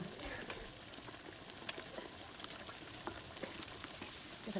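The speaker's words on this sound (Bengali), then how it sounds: "এখন আমি মাংসটা দিয়ে দেবো।" Duck meat added to a frying spice paste cooked with coconut: a faint, steady sizzle and bubbling with scattered small crackles and one sharp tick, heard quietly with no talk.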